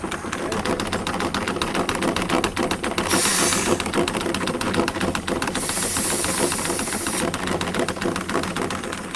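Compressed air hissing out of the bladder of a pulsation dampener on a J-model diaphragm pump, with two broad bursts of release over steady, loud, rapidly pulsing pump machinery, with no talking.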